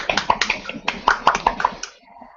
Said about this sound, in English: Only one person clapping